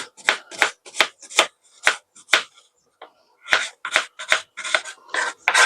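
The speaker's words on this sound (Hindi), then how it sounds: "अब दोस्तों इसे भी हमें चॉप कर लेना है और चॉप इसको करेंगे" A medium onion chopped with a knife on a board for an arum leaf dish, a series of crisp, close knife strikes in quick irregular bursts with a brief pause midway.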